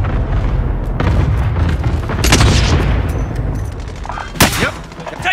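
Call of Duty combat erupts close and loud, with rapid gunfire and heavy booming explosions rolling over one another, then a sharp blast near the end.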